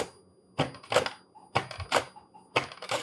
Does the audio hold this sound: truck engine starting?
no